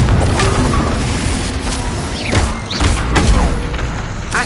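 Spell blasts from Hogwarts Legacy combat, with Confringo fire bursts landing as dense, loud booms and crashes amid continuous clattering mechanical battle noise, several impacts in quick succession.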